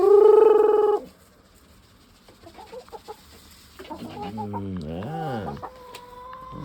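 Backyard chickens cluck and squawk close by, with a loud burst of calls at the start, then scattered softer clucks and a rising, wavering hen call later, while a person speaks briefly in between.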